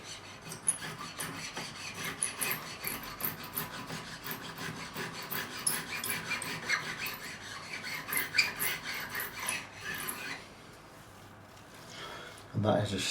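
A metal file rasps along the beveled fret ends of a Michael Kelly Patriot Premium guitar during a refret, making rapid, rhythmic scraping strokes up close for about ten seconds before pausing, then resuming briefly.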